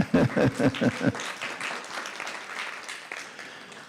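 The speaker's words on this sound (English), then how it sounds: "So let's give him a round of applause." Audience applause builds after a few spoken words at the start, then settles into a steady patter of clapping that gradually thins out.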